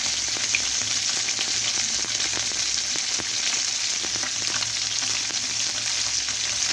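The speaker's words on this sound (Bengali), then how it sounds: "কড়াই গরম করে তাতে তেল দিয়ে মাছগুলো ভেজে নেব।" Fish frying in hot oil in a wok, a loud, steady, unbroken sizzle that carries on throughout with no voices.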